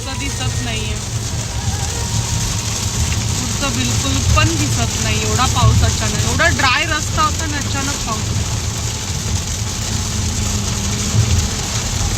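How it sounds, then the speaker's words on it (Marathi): Steady heavy rain drumming on a vehicle with a low engine rumble underneath, constant and loud throughout, with faint muffled voices in the background. "एवढा जोरात पाऊस की समोरचं काही दिसत पण नव्हतं"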